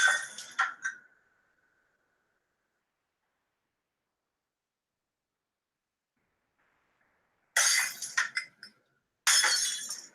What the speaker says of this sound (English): it makes glass breaking noises